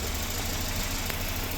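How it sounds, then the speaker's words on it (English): Volvo B230 redblock four-cylinder engine idling after a head gasket replacement and valve adjustment, a steady, smooth, close running hum with a faint even pulse. "listen how quiet that engine is"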